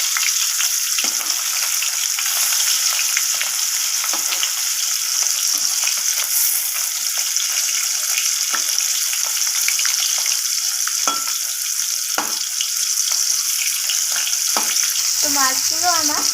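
Pieces of rohu fish fry in hot oil in a pan, giving a steady, close crackling sizzle that runs unbroken throughout, with a few light scrapes and clinks near the end and no talking.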